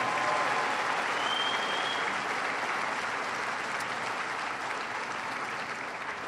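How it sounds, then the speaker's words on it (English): A large audience at a tribal nations conference applauds young people, producing a sustained, loud wash of dense clapping that stays even and continuous for several seconds with no speech over it. "So please give our young people a big round of applause."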